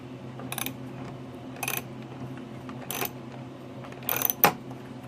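A hex head socket ratchet tightening a fastener on a 3D printed Spyker KAT model, giving short bursts of clicking in about five evenly spaced strokes, close and crisp over a faint background hum.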